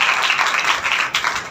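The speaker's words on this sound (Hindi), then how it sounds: "नाजिया बेटी के लिए तालियां बजाएं।" A Sunday church congregation claps together in a short, moderately loud burst of many hands, uneven and lively.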